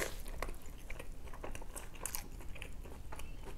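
Someone bites into a KFC Up-Gravy chicken burger and chews, giving close, quiet crunching with soft irregular crisp snaps over several seconds.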